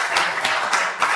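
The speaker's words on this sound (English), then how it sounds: "Can we give him a round of applause, please?" A small audience claps in a few scattered bursts, faint and brief, during a talk.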